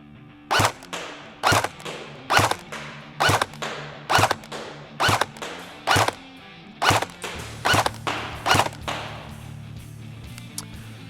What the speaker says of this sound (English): We're going to fire between 10 and 12 rounds down the range.